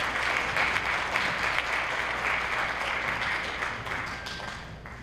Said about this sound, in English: how about a round of applause for those students who performed for the District Honors Band